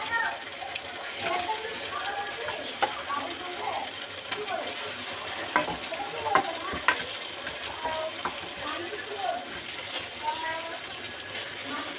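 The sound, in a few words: chicken frying and sizzling in a pan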